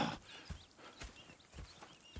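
Horse hooves clip-clop at a steady walking pace in Red Dead Redemption 2, faint and somewhat distant, with soft snorting and shuffling in between.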